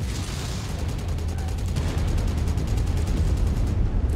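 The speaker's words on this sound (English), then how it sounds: "Luckily, my machine guns don't use any heat, but they do very poor damage overall" Mech machine guns firing in MechWarrior 5, a loud continuous rapid rattle of rounds with heavy low rumble, steady and dense from start to finish.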